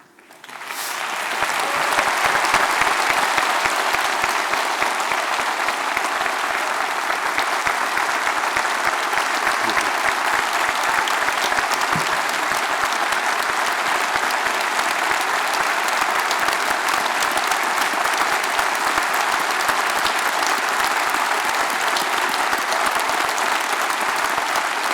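Sustained audience applause at an RCSI honorary doctorate ceremony in June 2017, rising quickly from quiet into a loud, unbroken wall of clapping from a large hall that continues evenly for over twenty seconds.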